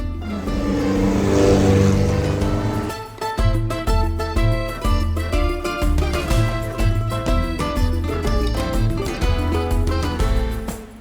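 Car engine on a road race course revving hard, a loud harsh roar that surges, drops briefly, then pulses through repeated rising and falling revs, close by.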